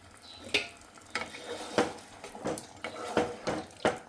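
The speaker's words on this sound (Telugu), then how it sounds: "ఒకసారి కలిపేసుకుందాం." A spoon stirs arbi (taro) tamarind curry in a pot, giving a series of wet, sloshing scrapes at a loose, uneven rhythm, close and fairly clear.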